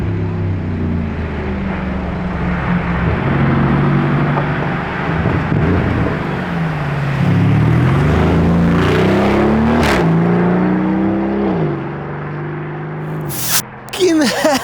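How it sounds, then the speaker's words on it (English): Lamborghini Urus SE engine roaring loudly close by: a sustained, heavy low rumble that swells and rises in pitch as it revs, then drops away near the end, followed by a couple of sharp bursts. "Guys, that is a loud Urus SE."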